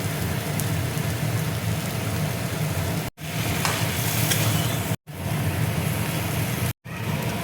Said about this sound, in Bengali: আলুটা দেখো ভালো করে কষিয়ে নিয়েছি